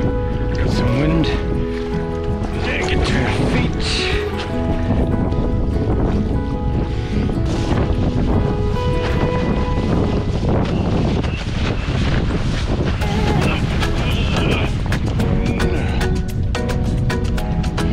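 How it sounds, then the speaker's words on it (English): Strong wind roaring across the microphone while wingfoiling on open water at sunrise near a jetty, a constant loud rush with water splashing and a voice speaking over it. "got some wind."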